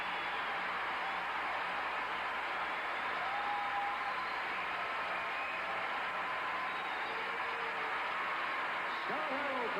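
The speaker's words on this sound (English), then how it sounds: "Ooh, a standing ovation." Dense, steady standing ovation from a large arena crowd at a 1988 professional figure skating competition, a continuous roar of applause lasting throughout, with faint voices mixed in.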